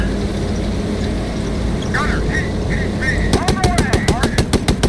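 Rapid bursts of gunfire in the tank combat game Gunner HEAT PC, a steady string of sharp, evenly spaced shots near the end, loud over a constant engine rumble and background battle noise.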